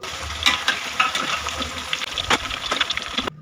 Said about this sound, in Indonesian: Kalau panas minyaknya, langsung digoreng.